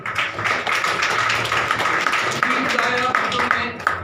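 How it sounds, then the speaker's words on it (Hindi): Church congregation clapping for the children at an Easter worship service, a continuous patter of many hands near and fairly loud, with voices underneath. "बच्चों के लिए ताली।"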